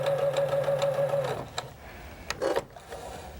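Sewing machine stitching polar fleece seams, a fast steady motor whir with rapid needle rhythm for over a second, then stopping, followed by faint handling clicks.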